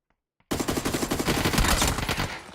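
Rapid automatic gunfire in PUBG bursts in after a short silence, a loud, close, dense stream of shots with no talk.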